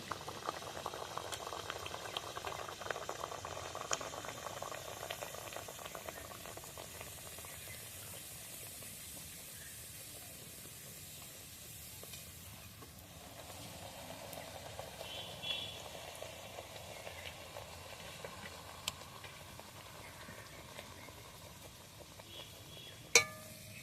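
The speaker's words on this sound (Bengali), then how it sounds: "লুচিগুলো এইভাবে আস্তে আস্তে ভেজে নেব," Luchi puris fry slowly in oil over low heat, making a long, even bubbling fizz that holds steady throughout, close and fairly quiet, ending with a single sharp click.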